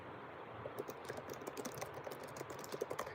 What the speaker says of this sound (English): I think you guys can hear the keyboard when I type, because I have a tendency to smash them keys.